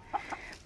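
Chickens on a farm giving two short clucks in quick succession, faint and close, with a quiet background.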